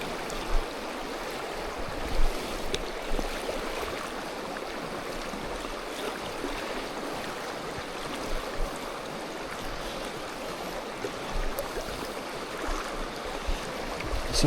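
Steady rushing river water flows continuously on a salmon river, a broad wash of noise with occasional small splashes and gusts, no voices.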